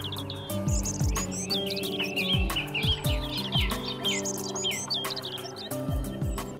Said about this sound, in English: The biologically productive wetland receives thousands of migratory birds.